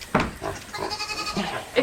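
Farm goats bleat in several wavering cries across the stretch, close and fairly loud, mixed with people talking nearby.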